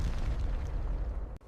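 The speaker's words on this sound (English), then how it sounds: "Another powerful explosion struck Reactor Unit 3, sending debris high into the sky." A powerful explosion at Fukushima reactor unit 3: a deep, sustained rumbling boom that fills the low end, ending in an abrupt cut.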